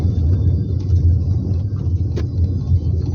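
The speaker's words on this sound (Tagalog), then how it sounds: "Engine brake." A car engine-brakes down a steep downhill road in Barangay Mabato, Calamba, Laguna, giving a steady, close, low rumble throughout.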